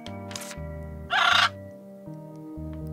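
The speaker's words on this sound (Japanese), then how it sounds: "今重要なのは、あのうるさい鳥を避ける方法を考えることだ。" Loud, harsh crow-like bird caw from the video game Little Witch in the Woods, one raspy burst rising over a steady looping game music background, with a fainter caw earlier.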